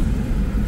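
Traffic on a city street in Guatemala City, a close, steady low engine rumble with no distinct passes or horns, heard briefly without any talk.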